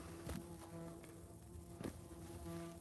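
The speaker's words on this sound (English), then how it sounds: "Oh, I got bumblebees all around me." Bumblebees buzz around outdoors, a faint steady hum with a couple of brief louder passes as they fly close.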